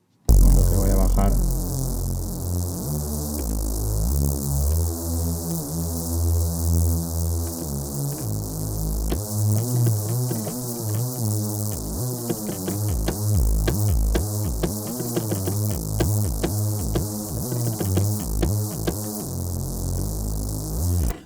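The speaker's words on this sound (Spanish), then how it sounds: "ahora este sonido es un Reese Bass ya como más moderno" A modern Reese bass built from an Operator synth in Ableton Live, with notch filtering and saturating distortion, drones loud and continuous with a throbbing, shifting harmonic buzz, stepping through sustained bass notes and then pulsing rhythmically with no voice.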